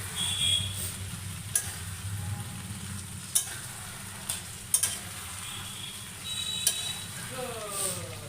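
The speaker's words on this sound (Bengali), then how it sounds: "এখন আবার এগুলো দিয়ে আবারও নেড়ে চেড়ে দেব" Chicken, peas and unpeeled potatoes frying in a pan, a continuous close sizzle broken by several sharp clanks and scrapes of a spoon stirring against the pan.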